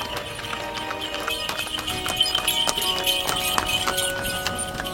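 A horse pulls a cart toward town on a hot day, its hooves clip-clopping in a steady, even rhythm close by for the full five seconds.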